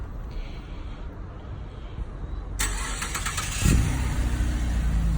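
A Holden Commodore Evoke sedan's engine started remotely from the key fob: a steady ambient hush, then the starter catches partway through and settles into a close, even idle that continues to the end.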